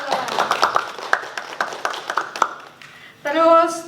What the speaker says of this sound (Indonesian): Tepuk tangan dulu dong teman-teman